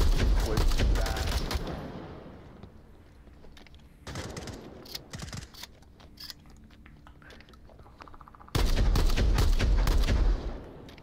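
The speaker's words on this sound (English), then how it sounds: "Oh yeah, distance shotgun." Gunfire in the virtual reality shooter Onward on a Call of Duty style map, with rattling bursts of shots, then quieter scattered cracks and a final loud volley, all heard alone without talk.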